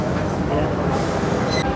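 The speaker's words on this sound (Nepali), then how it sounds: "ल यति लामो ट्रेन आयो फेरि" A long train pulls into a station with a loud, steady broadband rumble that fills the whole short stretch without letting up.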